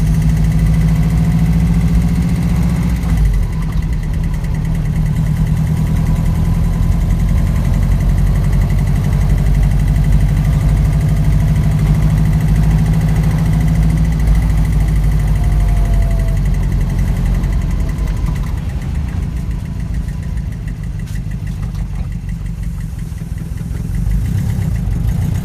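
A swapped Subaru EJ205 engine with freshly resurfaced heads runs in an Impreza 2.5RS GC8, a loud, close, steady low rumble with a lumpy boxer idle and a slight shift in tone partway through; no one speaks.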